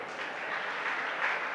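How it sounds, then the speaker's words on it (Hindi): Clapping from a religious discourse audience, a steady, fairly faint wash of applause with no voices on top. "अपने लिए ताली बजा रहे"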